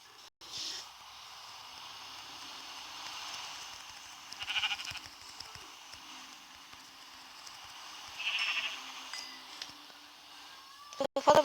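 Sheep in the Minecraft video game bleat faintly two or three times over a quiet background, with soft clicks and movement sounds in between.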